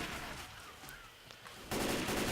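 Rapid automatic gunfire in the zombie shooter Left 4 Dead, quiet and muffled at first, then a sudden loud burst of sustained firing near the end.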